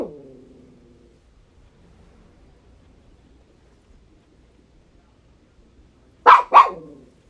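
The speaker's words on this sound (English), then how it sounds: "When Roxy barks, it just spikes the meters on this." A dog named Roxy lets out two sharp, loud barks in quick succession after a long stretch of near silence, following a faint tail of an earlier sound.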